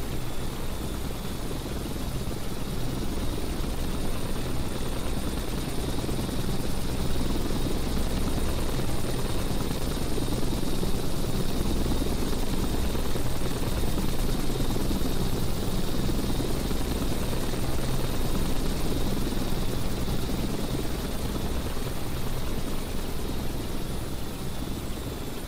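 Helicopter rotor and engine drone from Microsoft Flight Simulator X, steady and loud throughout, carrying a sling load, with no talk.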